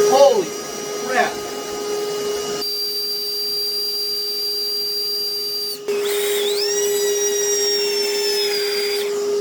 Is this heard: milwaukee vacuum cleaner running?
yes